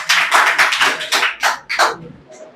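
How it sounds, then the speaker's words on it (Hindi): Ninth-grade students clap for a classmate during a school general-knowledge quiz: a loud, close group of claps in irregular bursts that thins toward the end and trails off into a few scattered claps. "ताली बजा दी बादल के लिए।"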